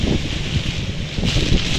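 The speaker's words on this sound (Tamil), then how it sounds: "அவ்வளோ காற்றும் மழையுமடாப்பா" Cyclone wind roars and buffets the microphone in a dense, continuous rush with rain mixed in, and no voices, at Thondaimanaru in northern Sri Lanka.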